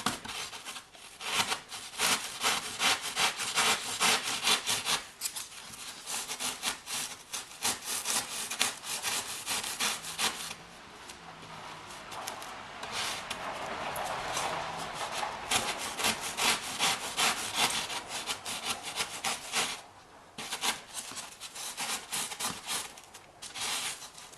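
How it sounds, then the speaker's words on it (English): Wood being filed with a small hand rasp in easy swipes, producing a close, continuous run of rhythmic scraping strokes that pause briefly now and then. "As I get closer, I'm just using one of these little rasps."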